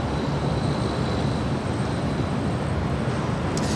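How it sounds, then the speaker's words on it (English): An MD-11 freighter rolls down the runway at LAX, a steady broadband engine roar at moderate distance with a faint high whine, holding level throughout with no voices. "We have an MD-11 freighter rolling on the south side."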